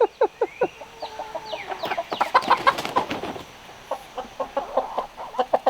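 A flock of chickens clucks near the coop at night, a close series of short rhythmic clucks and squawks from several birds, busiest in the middle and continuing in spaced bursts with no talking.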